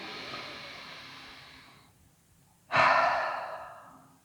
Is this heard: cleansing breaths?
yes